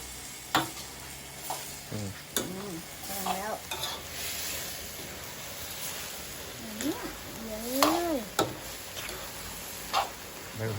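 Mama instant noodles stir-fried in a hot pan, with steady sizzling and scattered clinks and scrapes of the utensil while people chat and laugh over it.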